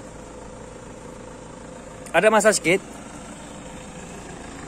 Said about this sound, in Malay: agak bising bunyi enjin saya punya kereta